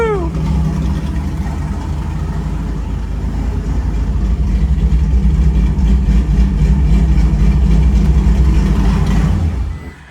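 A Prius swapped with a 5.3L V8 engine runs with its exhaust cut-outs open, giving a loud, close, continuous rumble with steady revving for about ten seconds before it cuts off abruptly.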